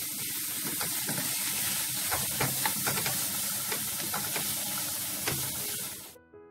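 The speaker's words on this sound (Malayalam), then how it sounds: "പിന്നെ സവാള ചെറുതായിട്ട് അരിഞ്ഞത് ഇട്ട് കൊടുക്കും. അത് നന്നായിട്ടൊന്ന് വഴറ്റി എടുക്കണം." Finely chopped onions sauté in a hot pan with a steady, close sizzle and hiss, punctuated by soft stirring knocks, before the sound cuts off abruptly near the end; no talking.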